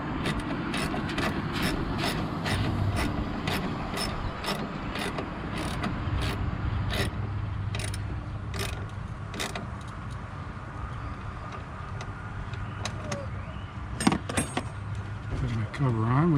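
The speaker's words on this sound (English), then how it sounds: "Get my fastener started there. And then tighten this back down." A ratchet tightens down a car battery fastener with a fast run of sharp, close clicks, then a pause and a few more clicks, with rattling metal and someone talking over it.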